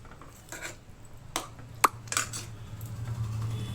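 A spoon scrapes and clinks against a metal pot while cooked lentils are stirred into softened bottle gourd, giving a few sharp taps over a low steady background hum.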